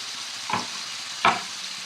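Tomatoes cooking in a pan for a Telugu kakarakaya pulusu, bitter gourd tamarind curry: two short scraping stirs against a soft background sizzle, near and fairly quiet.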